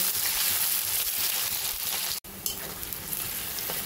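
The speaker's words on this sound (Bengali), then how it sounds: "পেঁয়াজটা একটু ভাজা ভাজা করে নেব।" Thinly sliced large onions frying in hot oil while being stirred, giving a loud, close, dense sizzle with scraping stir strokes, briefly cut by a sharp gap before the hiss resumes, with no talking.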